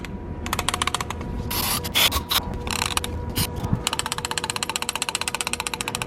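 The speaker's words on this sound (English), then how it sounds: "you want to shake it like this, and you should hear it click like that" A BMW idle control valve shaken by hand gives off rapid, evenly spaced mechanical clicks that grow into a steady fast rattle. The sound is close and fairly loud, with no talking.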